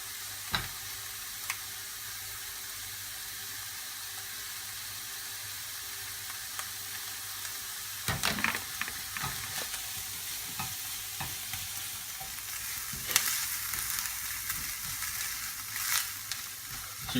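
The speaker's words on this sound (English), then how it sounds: "So you cook off the tomato puree and the garlic puree." Tomato puree and garlic puree cook in a pan for chicken curry, giving a continuous soft sizzle with scattered stirring scrapes and spoon taps, heavier in the second half, with no voices.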